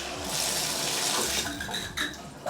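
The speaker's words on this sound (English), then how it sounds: "So turn on the water." Water sprays steadily from a Moen Magnetix magnetic shower head in a shower, a loud continuous hiss and splash with slight shifts in texture near the end.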